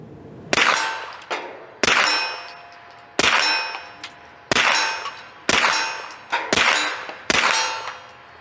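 Hi-Point 995 rifle firing at a steel target outdoors: seven sharp shots at uneven intervals, each followed by a bright metallic clang that rings and fades before the next.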